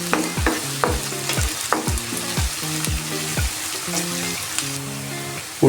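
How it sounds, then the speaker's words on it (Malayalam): Shallots frying in a pan with ginger, garlic and curry leaves give a steady, close hiss of sizzling oil, punctuated by a regular series of scraping stirs, roughly one per second. "ഉള്ളി നന്നായിട്ട് വഴന്നു വന്നിട്ടുണ്ട്."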